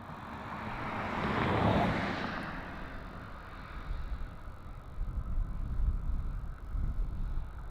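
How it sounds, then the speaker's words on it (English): A LATAM Boeing 787 on its takeoff roll at Melbourne Airport, Australia, swells into a broad jet roar that peaks early, then recedes into a rumbling distant drone with gusts of wind noise on the microphone. "Very long takeoff roll on that one."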